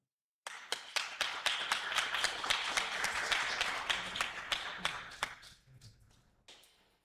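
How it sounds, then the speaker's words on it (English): Modest applause from a small crowd at a sport shooting tournament as the fifth-place finisher is announced, steady scattered clapping that swells for a few seconds and then thins out to a few isolated claps. "A big applause"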